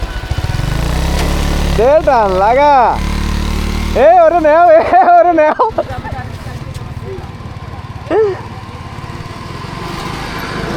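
Motorcycles ridden by young riders near Haripur Bridge in Chilmari, Gaibandha rev hard in rising and falling bursts, with a steady low engine drone throughout and people shouting over it.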